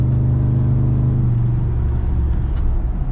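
A 2007 Ford F150 with a 4.6 V8 engine rumbles from inside the cab during a brake test, its steady engine drone easing lower as the truck slows, with no voices.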